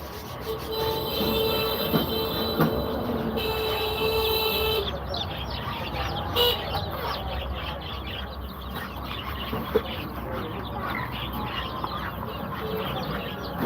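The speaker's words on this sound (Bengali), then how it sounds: "একদম সুস্থ সবল বাচ্চা এক গ্রেডের বাচ্চা লেয়ার মুরগির বাচ্চা" Day-old layer chicks cheep in a dense, continuous chorus of high peeping that stays steady throughout, with occasional rustling and bumps close by.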